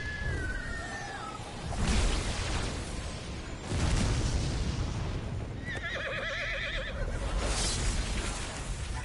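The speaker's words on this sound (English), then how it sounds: "there's the horse" A horse whinnies in a video game with a shaky, quavering call, set among loud booming impacts and a constant low rumble of battle effects.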